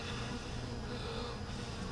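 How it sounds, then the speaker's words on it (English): Dense, continuous buzz of honey bees swarming over an open hive frame with a drone-heavy laying pattern, steady and close throughout with no voices. "We got a full amount of bees here."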